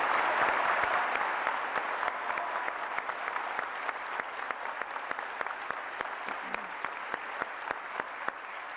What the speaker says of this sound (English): let's give her another round of applause, which she richly deserves